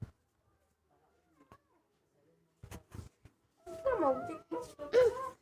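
A cat meows a few times at close range, mixed with short bursts of voices and scuffling; quiet stretches precede the louder calls near the end.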